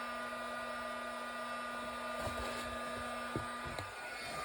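Heat tool blowing continuously to melt embossing powder on cracked-glass craft work, a steady close whooshing hum with a few faint taps and clicks mixed in, no voices.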